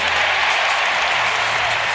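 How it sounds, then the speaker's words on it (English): Basketball crowd rising for a standing ovation at a 2017 NBA playoff game, with loud, dense, sustained clapping and cheering filling the arena throughout. "Standing ovation from this crowd."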